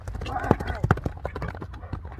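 Horse hooves clip-clop in an uneven rhythm, a few sharp louder strikes standing out close by, while people talk over them throughout.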